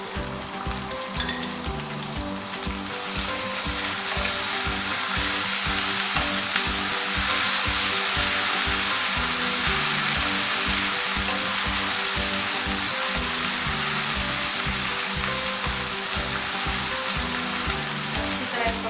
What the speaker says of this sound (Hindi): अब इसमें लहसुन और अदरक की पेस्ट शामिल करेंगे, हल्का सा फ्राई करेंगे।